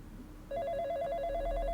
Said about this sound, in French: Le téléphone commence à sonner.